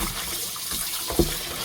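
Callaloo leaves are washed in water for a Jamaican dish, giving a soft, continuous trickle and slosh close by, with one brief louder splash near the end.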